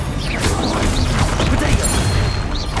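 Spells are cast in Hogwarts Legacy combat, a dense, loud run of magical whooshes, impacts and crackling bursts over a heavy rumbling bed, packed tightly together with no quiet gaps.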